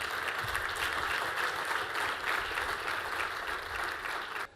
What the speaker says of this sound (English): Please give him a warm round of applause, ladies and gentlemen.